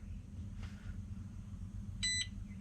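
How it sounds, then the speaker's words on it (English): A short electronic beep sounds once from a smart active balancer for lithium batteries, clear and high-pitched, over a low steady hum; a faint softer chirp comes earlier. "Ah, beeps, confirmation."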